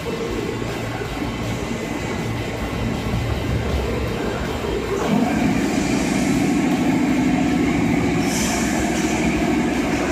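A JR 205 series commuter train pulls out of Shin-Yahashira station, its steady rumble rising partway through as it gets under way, with a brief squeal near the end; no one speaks.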